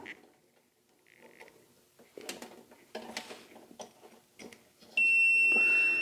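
A sharp, steady electronic multimeter continuity beep sounds near the end while testing the circuit of a Toro Recycler lawn mower that won't start, after some light clinks and handling noises, loud and close.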